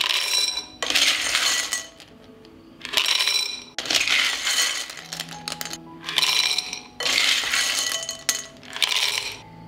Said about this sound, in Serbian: I zatim ću napuniti tegle sa testeninom